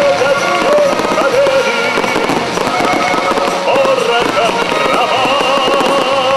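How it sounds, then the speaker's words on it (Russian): Dense, continuous crackling and popping bursts of a large Victory Day fireworks display over Zarechny, loud and close, with faint crowd noise underneath throughout. "Небо над Заречным озарил большой праздничный салют."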